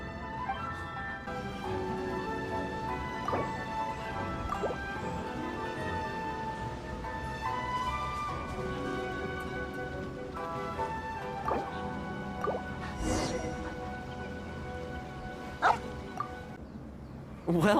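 Dogs in the Genshin Impact video game give soft yips, whimpers and short barks scattered over a steady bed of game music, with occasional light dripping accents. A louder bark comes near the end.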